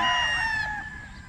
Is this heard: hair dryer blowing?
no